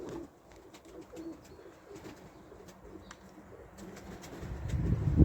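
Pigeons flying as a flock in winter cold give faint, scattered cooing calls over a low outdoor rumble that swells louder toward the end.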